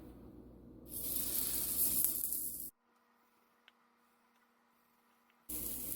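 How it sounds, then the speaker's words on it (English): Semolina paniyaram batter hits an oiled appe mold with a bright, loud sizzle, then falls almost silent before the hiss returns at the end. "And now here goes a spoon of batter into the mold"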